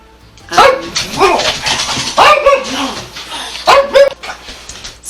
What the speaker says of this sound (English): That was my attack dog.